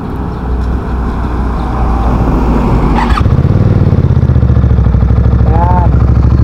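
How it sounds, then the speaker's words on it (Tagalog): A Benda Napoleon 450cc motorcycle exhaust idles with a low, throbbing rumble close by, then steps up into a firmer, louder idle partway through, while someone talks over it. "yan yung tunog ng kanyang exhaust, ng kanyang tambutso"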